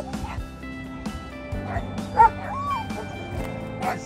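Several dogs bark, yip and whimper in short bursts at moderate distance, with scattered yelps over a steady low background hum.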